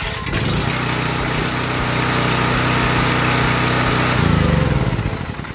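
Portable generator whirring on its electric starter for several seconds, a steady mechanical cranking drone that ends as the small engine catches and runs up, close and fairly loud.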